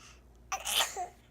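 A baby or young child makes a short, breathy imitation of a sneeze, a quick burst that trails into soft babbling, heard close with faint room noise.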